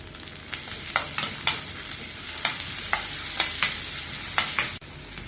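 Chopped tomato sautés with onion, ginger and green chili in a pan for wheat rava khichdi, a steady sizzle broken by repeated sharp scrapes and taps of a spoon stirring, close up and with no voices.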